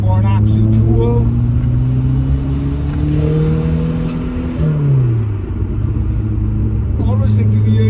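A Ford car engine accelerates on the road, its droning tone climbing steadily in pitch, then dipping as it shifts and climbs again, loud and close, with someone talking over it.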